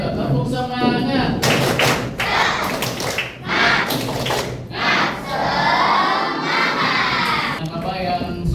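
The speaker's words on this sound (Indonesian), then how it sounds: "tepuk semangat." Students in an Islamic religious education class chant and clap the tepuk semangat spirit clap together, rhythmic bursts of group claps and thumps mixed with shouted voices, loud and close, pausing briefly between phrases.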